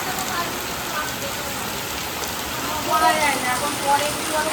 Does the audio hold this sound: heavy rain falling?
yes